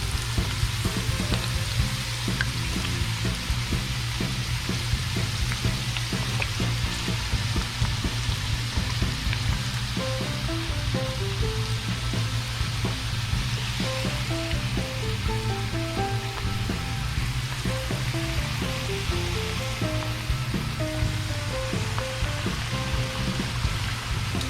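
Fries cook in a pan of hot oil, giving a steady, loud sizzle and bubbling crackle that runs unbroken throughout.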